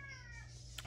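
A single short cat meow at a rural orchid-growing property, brief and fairly close, set over a steady low hum.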